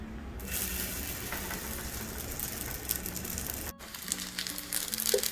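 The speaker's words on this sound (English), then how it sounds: "I'm browning these, making them a little crispy" Chicken momos, or potstickers, sizzle and crisp as they brown in a pan, a steady broadband hiss with a brief dropout and a few faint clinks near the end.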